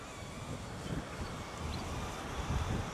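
Wind buffets a microphone outdoors during FPV drone flying, a steady low rumbling roar with gusts swelling near the end, no clear voices.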